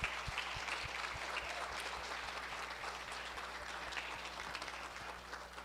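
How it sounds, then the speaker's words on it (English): An audience at an annual network meeting applauds steadily, a continuous even patter of many clapping hands at moderate volume, with no speech over it. "if everybody can put your hands together and round of applause for Kaushik"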